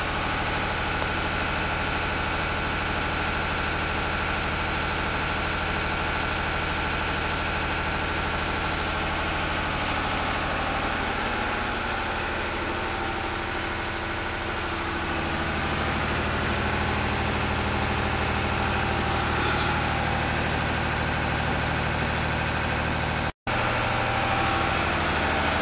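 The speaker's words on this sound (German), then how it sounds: "Der Diesel, Heizöl, der tuckert ein bisschen mehr als die Gas-BRKWs." Diesel combined heat and power unit burning heating oil in a hotel boiler room, its engine running steadily with a continuous loud, even thrum and a slight chug throughout, close by, with no talk.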